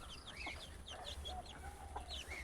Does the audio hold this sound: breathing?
no